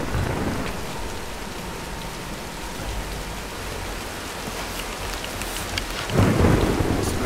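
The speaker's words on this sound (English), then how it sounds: "let's wait out the storm" Thunderstorm with steady heavy rain in Tomb Raider 2013, a continuous rain hiss with low rumbling thunder swelling near the end.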